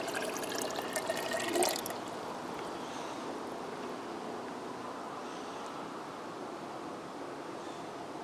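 Water pours into a shallow hand-dug well pipe, a brief louder splash at first that settles into a soft, steady trickle and gurgle, with no talking.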